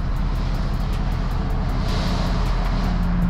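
A towing vehicle with a trailer rolls along while the trailer brakes drag its tires, giving a steady, loud road and tire roar with a low rumble and no talk.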